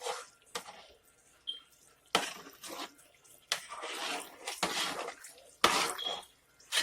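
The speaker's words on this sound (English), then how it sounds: "Stirring everything up so that it will mix" Hamburger Helper sauce and ground meat stirred in a pot for cheeseburger Hamburger Helper, heard as wet squishing, scraping strokes in irregular bursts with short pauses, close and moderately loud.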